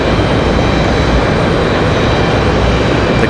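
A Copa Airlines jet airliner departs Raleigh-Durham airport toward Panama City, a loud, steady broadband engine roar filling the whole moment without letup.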